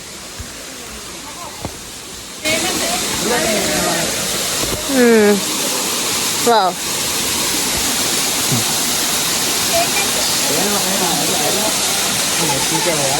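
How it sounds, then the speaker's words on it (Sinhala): Punchi Kumari waterfall inside Sinharaja rainforest roars as a steady, broad rush of falling water, louder after the first seconds, with brief voices and an exclaimed word over it. "මේ අපි බලන්න යන්නේ සිංහරාජ ඇතුලේ තියෙන පුංචි කුමාරි ඇල්ල"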